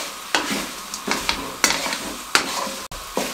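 Masala french fries are stirred in a pan over a slow flame. Sharp scraping strokes of the spatula recur every half second or so over a low, continuous sizzle, close and fairly loud.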